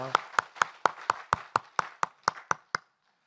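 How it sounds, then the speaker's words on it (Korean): About eleven sharp, evenly spaced claps ring out in a steady beat, then stop dead. They come from a church congregation in Yeongdeungpo, clapping in unison for their parents, fairly soft and close with no voices over them. "우리 다 같이 우리 부모님들에게 박수 한번 보낼까요?"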